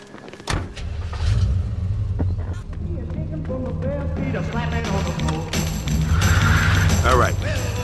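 Car engine running and revving in the Mafia 2 video game, a steady motor hum with rising surges, heard alongside game sounds and voices in the background.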